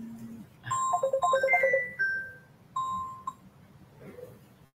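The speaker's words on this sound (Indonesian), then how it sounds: "sudah ada telepon ya." A mobile phone ringtone for an incoming call plays a short melodic electronic tune of rising and falling tones, fairly faint, followed by a few scattered tonal notes and quiet background.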